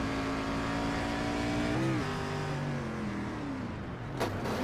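Stock car engine roaring close from an onboard view, its pitch dropping sharply as the driver brakes hard while heading into a wreck on the track, with a brief squeal near the end.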